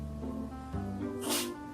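A single short, sharp sneeze from a dog, close by, following some quiet snuffling and shuffling.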